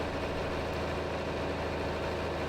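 An old tractor in Farming Simulator idles steadily: a continuous low, rumbling engine drone with even vibration and no change in pitch, heard alone.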